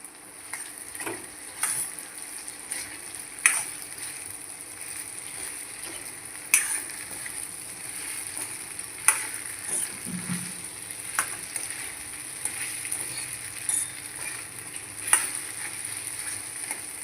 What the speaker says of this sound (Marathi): आपण हे साबुदाणे जे भिजवलेले आहेत फुललेले ते टाकायचे आहेत आणि मिक्स करून घ्यायचे आहे